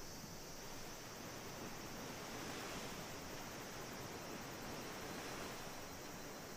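Steady surf from waves breaking on a seashore, a continuous broadband wash that fills the whole stretch evenly, close and alone with no voices.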